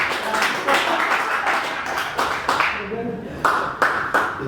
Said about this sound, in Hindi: एक बार जोरदार तालियां फॉर जनाब सुजैन